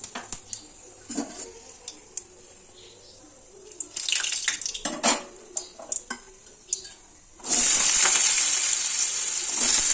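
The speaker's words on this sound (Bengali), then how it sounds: "কালো জিরে পাঁচ ফোড়ন মানে পাঁচ ফোড়ন দিচ্ছি একটু ওর মধ্যে পাঁচ ফোড়ন শুকনো লঙ্কা ফোড়ন দিলাম পাঁচ ফোড়নের সাথে" Panch phoron and dried red chillies crackle in hot oil, sharp scattered spits and pops at first, then a sudden loud, steady sizzle as more goes into the pan.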